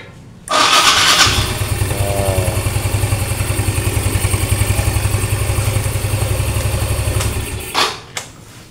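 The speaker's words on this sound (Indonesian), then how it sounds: "Sekarang kita coba double starter. Kontak on." A motorcycle electric starter fitted with a new armature cranks loudly for about seven seconds, a steady whirring, slipping drone that cuts in abruptly and stops, with no engine catching.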